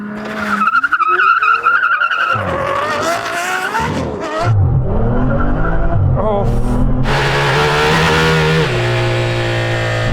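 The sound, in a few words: cars drag racing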